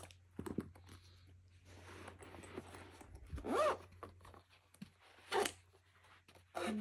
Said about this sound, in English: See, the zip gets caught on that tag.